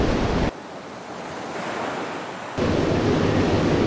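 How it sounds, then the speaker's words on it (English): Strong gusts of wind buffet the microphone while sea waves wash against a sea wall, a dense roaring rush that drops briefly before surging back loud and close. "It's so windy, but it's so fun as well."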